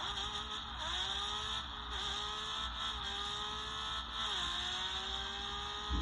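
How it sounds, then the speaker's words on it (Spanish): Porsche engine in a video game revving and shifting, a steady high mechanical drone that rises and drops through gear changes, loud and continuous with no voices. "Me gusta el sonido de este Porsche porque me gusta."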